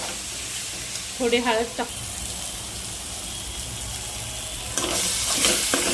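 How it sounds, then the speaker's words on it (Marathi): Green masala frying and being stirred in a pan for a methi and peas bhaji, a steady broad sizzle with scraping strokes, briefly under a woman's speech, growing louder near the end. "वाटलेला ग्रीन मसाला पण त्यामध्ये टाकलाय। आता याला चांगलं मिक्स करून घेऊया।"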